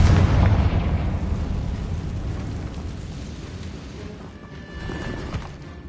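Confringo explosion spell in a video game, a loud booming blast at the start that rumbles and slowly decays into a fading tail, with a smaller burst near the end.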